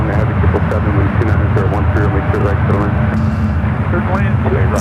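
A 27-year-old Delta Boeing 767-300ER airliner at San Francisco airport makes a loud, continuous engine roar. A voice talks over it throughout.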